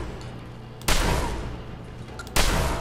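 Gunshots in Fallout 4, two loud, sharp blasts spaced about a second and a half apart, each followed by a decaying rumble, with no talk over them.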